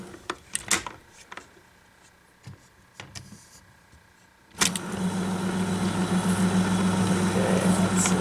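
A 1962 Sony TC-521 reel-to-reel tape recorder gives a few sharp mechanical clicks and knocks. Its motor then engages into a steady whirring hum that holds at even loudness until the end.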